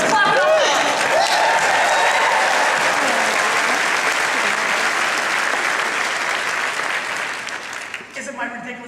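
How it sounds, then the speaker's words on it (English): A conference audience at SXSW Interactive 2010 bursts into sustained applause that holds steady for several seconds, then thins and fades as a voice returns to speaking at the start and end. "Let's clap it up."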